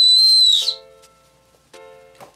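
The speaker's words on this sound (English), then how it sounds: "And I'll do the whistle for you guys." A loud, shrill emergency whistle blast for about half a second, followed by faint clicks and rustling.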